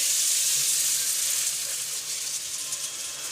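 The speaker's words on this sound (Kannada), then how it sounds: "ಚಿಕನ್ ಬೈಸಿದ ನೀರು ಹಾಕ್ಕೊತಾ ಇದ್ದೀವಿ" Loud hiss and sizzle as chicken stock hits masala in a hot pan for chilli chicken, steady at first and easing slightly toward the end.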